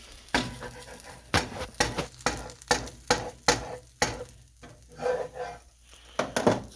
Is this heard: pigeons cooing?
no